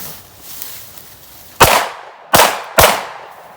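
A Glock pistol fires three sharp shots, each a loud crack with a short decaying tail, spaced under a second apart after a stretch of low background noise.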